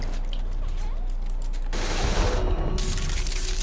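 Gunfire in the video game Saints Row The Third breaks out as a loud rapid burst of shots with mechanical clatter, following quieter in-game ambience and small effects.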